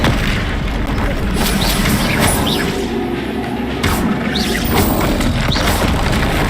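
Incendio fire spell cast in the game Hogwarts Legacy, a loud continuous roaring burst with repeated booming impacts and crackles, up close.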